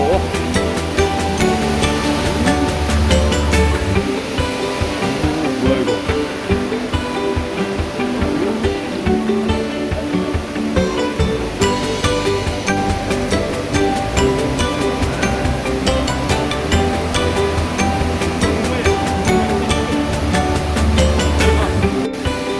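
A monsoon-season waterfall near Pune, Maharashtra, a continuous broad rush of falling water with a thumping, rhythmic passage midway, while people talk throughout.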